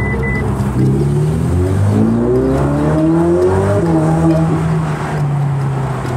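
A turbocharged car accelerates close by, its engine note rising and falling through gear changes under a steady loud roar, with a faint whistle in the first moment and no talking.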